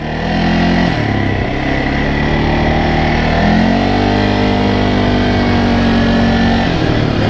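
An ATV engine running steadily while riding on a trail, a loud, close, continuous drone that dips and rises in pitch with throttle changes, with no talking.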